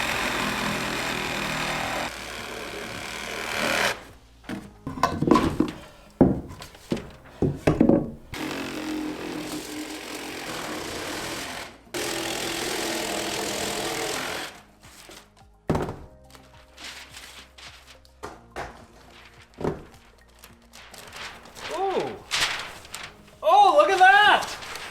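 A power saw rips wooden wall studs in several loud, sustained bursts broken by woody thunks and knocks of handled lumber, with someone talking briefly near the end.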